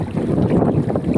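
Wind buffets the microphone while a boat rocks on the water, with a low rumbling, splashing wash that continues throughout.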